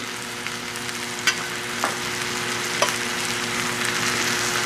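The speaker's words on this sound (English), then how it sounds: "Then let's just spoon some of this butter over it." Butter sizzles steadily in a pan around a porterhouse steak while a spoon bastes it, three short clicks of metal sounding over the even frying hiss; no speech.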